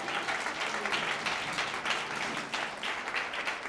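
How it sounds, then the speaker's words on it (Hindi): An audience applauding loudly at a Hindi-language church sermon, with dense, steady clapping from a crowd, close and sustained for several seconds. "जोर से ताली बजाए।"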